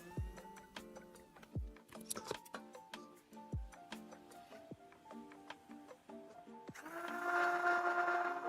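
A drill bit bores through material, with scattered ticks and clicks leading into a steady, buzzing whir of drilling near the end, close by and fairly quiet, with no talking.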